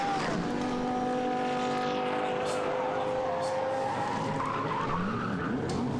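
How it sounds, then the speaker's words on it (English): A Ferrari race car spins off at Luffield corner during Silverstone qualifying in 2015, loud tire squeal and skidding over sustained engine drone, with other engines passing nearby. "And there's a spin at Luffield."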